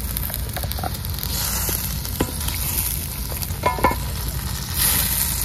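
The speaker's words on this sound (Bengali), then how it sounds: "এই আলু ভাজাটাকে দিয়ে দিলাম" Steady, loud sizzling of potatoes frying in a pan with occasional clinks and stirring sounds, continuous throughout.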